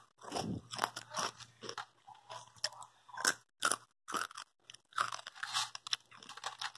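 Crispy oven-roasted potatoes crunch and crackle up close, a series of irregular sharp bites and crumbly snaps with quiet gaps between them.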